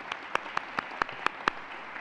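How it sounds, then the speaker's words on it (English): An audience claps for students, heard as a slow run of about seven separate, sharp claps spaced evenly apart over a quiet background, more like a few hands than a full crowd. "I want to have a round of applause for the students"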